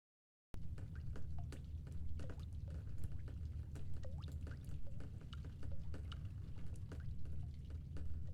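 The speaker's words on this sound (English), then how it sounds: "Pretty sure I'm hearing water." Water dripping and pouring in The Stanley Parable: Ultra Deluxe, a steady stream of irregular drips and trickles over a low running-water bed, quiet and continuous, no talk.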